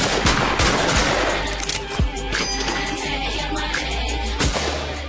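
A quick volley of gunshots cracks out, several sharp bangs spaced unevenly across a few seconds, loud and close against a steady outdoor background, with no one speaking.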